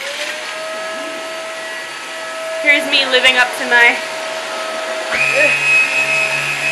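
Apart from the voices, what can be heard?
vacuum cleaner running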